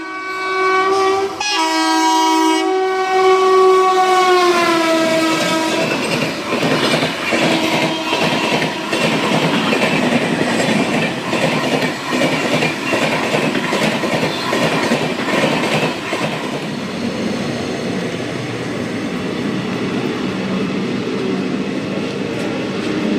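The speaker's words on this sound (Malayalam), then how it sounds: "നമുക്ക് 8:45 ഒരു ട്രെയിൻ ഉണ്ട്" A train horn blares loudly at first, then a passenger train in Malaysia rumbles past with rhythmic clattering wheels that gradually fade.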